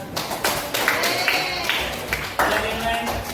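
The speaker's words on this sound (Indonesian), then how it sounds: "silakan tepuk tangan sama Brenda" Classroom applause for a student, a cluster of close hand claps with uneven rhythm running through the whole span, with voices talking over it.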